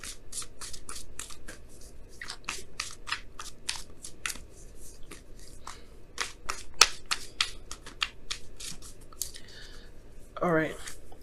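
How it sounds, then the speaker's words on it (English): Oracle cards being shuffled in the hand for a tarot reading, a steady run of short crisp riffles and slaps with a louder flurry near the end, close and fairly quiet over a soft room hiss. "let me go ahead and pull your Wisdom of the Oracle card for the week."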